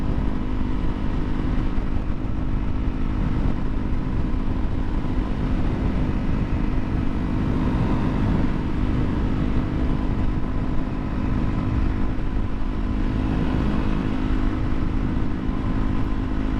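A 2017 Honda CRF 250L 250cc dual-sport motorcycle engine droning steadily while riding, loud and close, mixed with heavy wind rush and no speech.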